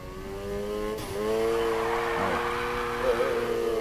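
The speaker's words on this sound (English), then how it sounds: "Now try and hold those drifts." Need for Speed gameplay of a customized Honda Civic drifting through a corner, engine revving hard in a steady high drone that climbs and holds, with tires squealing under the loud continuous motor.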